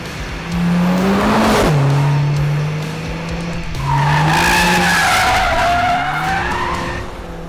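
A 2022 Mercedes-AMG CLA 45 S Shooting Brake in Sport Plus mode accelerates hard on a road, its engine note climbing through two rising sweeps with a shift between them, loud and close with tire noise and no talking.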